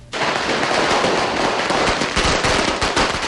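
Firecracker or kwitis skyrocket fireworks going off during a Philippine New Year celebration, a dense, continuous rattle of rapid crackling bursts, loud and close, lasting throughout.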